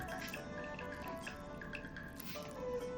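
Water dripping from a slice of bread soaked in water and squeezed by hand for potato bread rolls, a steady run of small close drips and trickles, no talk.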